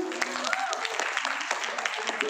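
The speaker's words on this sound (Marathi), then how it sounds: "आपण टाळ्या वाजवेल त्या दोघांसाठी." Audience at a family ceremony clapping, a brisk patter of many hands close by, with voices talking over the applause.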